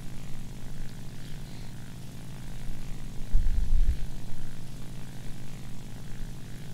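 A J2M3 Raiden fighter's engine drones steadily in fast level flight in War Thunder, a low continuous propeller rumble that swells briefly midway, with no talking.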